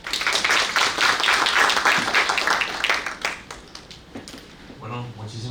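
An audience at a human rights session for public servants in Nayarit claps to welcome a speaker. The dense applause fills the first four seconds, then thins out, and a voice begins talking at the end.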